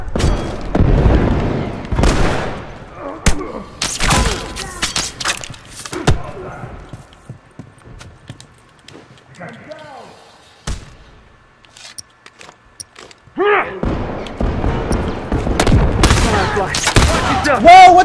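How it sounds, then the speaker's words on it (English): Multiplayer gunfire in The Last of Us Remastered comes as sharp, loud single shots and short clusters spread across the stretch, with quieter gaps, some shouting voices, and a dense burst of shots near the end. "I shot him."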